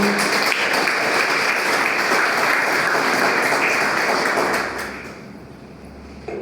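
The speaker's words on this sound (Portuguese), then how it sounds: "Dê uma salva de palmas ao Senhor." Church congregation applauding the Lord during a Brazilian service, a dense, loud wash of clapping for about five seconds that then fades quickly to a quieter room tone.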